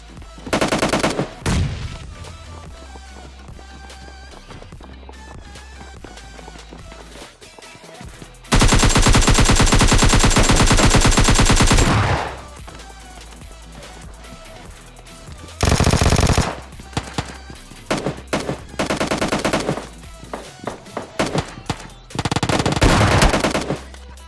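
Automatic gunfire in PUBG rattles out in several long bursts and shorter volleys, loud and close, separated by quieter stretches of game ambience.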